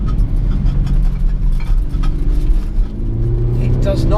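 An Audi SQ5 diesel accelerates on country roads in dynamic manual mode, a loud low engine drone rising in pitch with a gear change, heard from inside the cabin.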